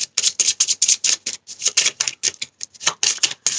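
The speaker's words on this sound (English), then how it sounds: "All right, 3 more shuffles and I'll pick one from the top of the deck." A deck of tarot cards is shuffled close up in quick, crisp riffling bursts with brief pauses between them, and no voices.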